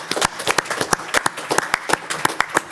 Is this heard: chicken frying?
no